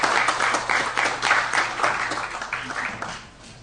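A room full of county election officials in California applauds, a dense steady patter of many hands clapping close by that fades toward the end.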